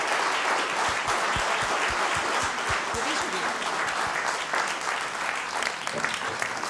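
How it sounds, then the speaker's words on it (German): A crowd at a Webmontag Frankfurt tech meetup claps steadily throughout, with a few louder nearby claps standing out early on. "das ist ein Applaus wert vom Team und von allen hier"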